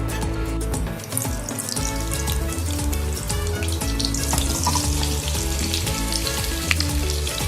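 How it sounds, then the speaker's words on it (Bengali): Boiled cauliflower pieces frying in hot oil, with a loud, continuous sizzle and crackle heard up close. Steady background music plays underneath throughout, and no one speaks. "এরপর ওই তেলেই সিদ্ধ করে রাখা ফুলকপিগুলো ভেজে নেব"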